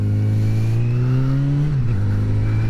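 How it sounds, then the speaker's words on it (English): Loud, steady motorcycle engine drone through a very loud exhaust, pitch climbing slightly then dipping as it is revved, close and continuous, heard from a microphone inside the rider's helmet. "my exhaust on this is ridiculous, as you can probably hear."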